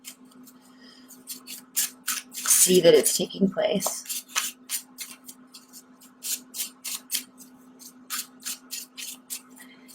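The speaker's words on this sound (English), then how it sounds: "I'm going to do a really quick additional shuffle" Tarot cards being shuffled by hand, a quick riffle of brief papery flutters and taps in a quiet room, with a person talking softly over part of it.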